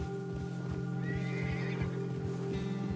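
A horse in Red Dead Redemption 2, a pinto with dalmatian-like spotted coloring, gives a clear, drawn-out neigh over a steady game soundscape of low hum and faint hoof clops.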